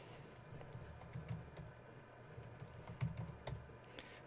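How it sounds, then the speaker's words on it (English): Quiet, steady typing of a password on a computer keyboard, with soft irregular key clicks and a few slightly louder taps, heard alone without talk. "Type in the password."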